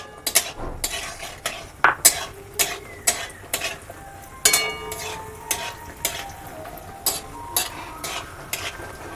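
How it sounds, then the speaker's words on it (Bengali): Bori lentil dumplings fry in oil in a hot wok, with a steady sizzle beneath a series of sharp clinks and scrapes as a utensil stirs and strikes the pan, close and without speech. "আমি আগে বড়িগুলো ভেজে নেব।"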